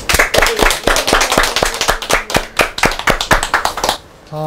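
Loud, close clapping from a lecture audience welcoming a professor at a mission school course, crisp individual claps in a quick uneven rhythm for about four seconds before stopping.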